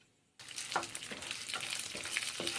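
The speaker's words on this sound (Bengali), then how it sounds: "কড়াই গরম করছি, তেল গরম করছি, জিরে ফোড়ন দিয়ে রান্না করছি।" After a brief quiet moment, cumin seeds hit hot oil in a kadai for red lentil dal and burst into loud close sizzling, with a few spatula scrapes over the steady crackle.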